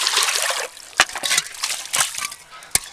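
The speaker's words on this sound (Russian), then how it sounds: "Наливаю везде воды чистой." Clean water splashes and trickles as it is poured out for ducklings and chickens, close up, in short gushes separated by sharp splashy bursts.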